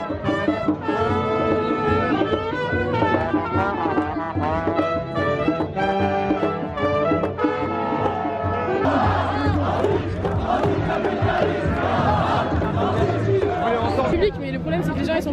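Dense crowd of protesters in Lyon being pushed back onto the A7 motorway south of the city, a continuous loud roar of shouting and chanting voices with musical tones mixed in, swelling busier in the second half.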